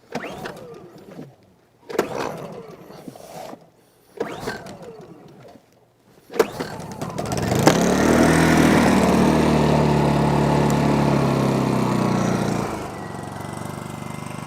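Several sharp recoil pulls are followed by a portable gas generator engine catching and settling into a steady, close running drone in eco mode that drops slightly in level near the end.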